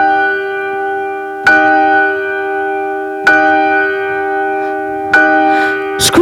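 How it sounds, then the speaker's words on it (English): A resonant bell strikes repeatedly, each loud clang ringing out and sustaining into a long hum before the next stroke, evenly spaced about two seconds apart and heard alone. "The bell struck"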